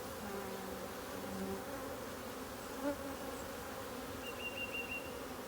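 Honey bees drone around an open hive being inspected, a steady, close swarm hum with a few louder bees passing near.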